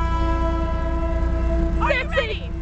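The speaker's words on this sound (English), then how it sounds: "There's a train." A train approaches on railway tracks where coins have been laid on the rails, its horn holding a loud, steady chord throughout over a low rumble, with a voice briefly speaking near the end.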